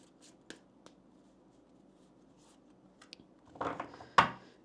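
Oracle cards are shuffled and pulled from a deck, a few soft scattered taps followed by a louder riffling burst and a sharp snap near the end, close and otherwise quiet.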